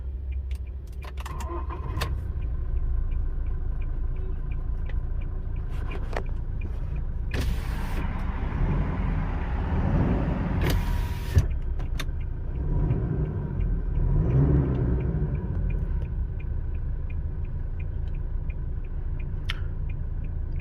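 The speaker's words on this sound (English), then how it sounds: "What you're hearing is a diesel motor." A Toyota Hilux diesel engine idle rumbles steadily and continuously with no talking, while a few brief mechanical clicks and a short whir rise over it partway through.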